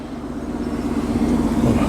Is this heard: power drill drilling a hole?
no